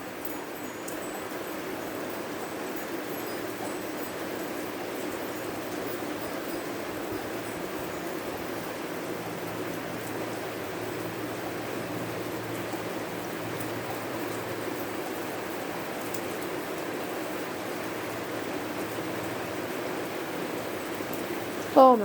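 Torrential rain during a heavy thunderstorm with high winds in southeastern Pennsylvania pours in a constant, dense hiss, loud and unbroken throughout, with no clear thunder.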